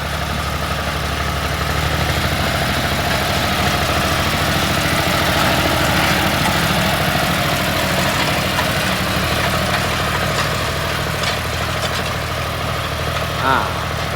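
A stock John Deere tractor fitted with front and rear implements runs at low revs, its engine a steady, close, continuous low rumble with a faint vibrating hum throughout.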